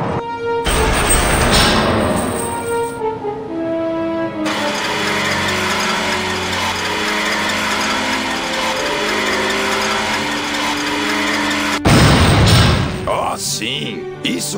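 Grinding machinery gears in the video game Grim Fandango Remastered, loud sustained mechanical whirring with layered tonal drones and a sudden heavier clank near the end, under a game music bed.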